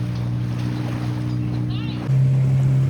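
A boat moves on the sea near Golden Rocks, giving a steady, close engine drone that grows slightly louder and deeper partway through.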